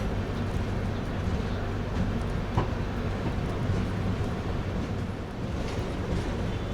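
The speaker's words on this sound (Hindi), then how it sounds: "ठीक ठाक रफ्तार से अपनी ट्रेन फ़िलहाल भागना शुरू कर चुकी है" Passenger train from the rider's viewpoint picking up speed on the rails, a steady rumbling roar with faint wheel clatter and occasional clicks throughout.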